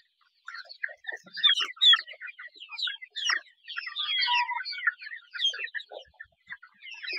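Satpuda breed chickens, a flock of about 500 birds gathered at a water pot, cluck and chatter continuously at close range, with overlapping calls and no speech.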